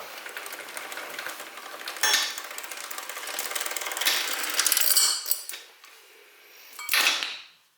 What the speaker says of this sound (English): now your chain's apart. So you can just pull it all the way through.